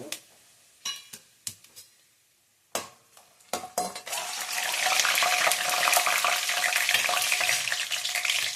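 Cashews with cinnamon, cloves and cardamom drop into a hot pan: a few sharp clinks and stirring knocks first, then a steady, fairly loud frying sizzle fills the rest.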